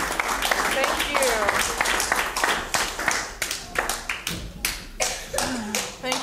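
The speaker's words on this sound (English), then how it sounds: "Let's give him a hand clap this morning." A church congregation clapping hands, a burst of sharp, uneven claps that loosens into scattered rhythmic claps, with voices and some children heard through it.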